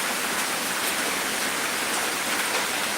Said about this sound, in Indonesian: Hujan, bro, hujan.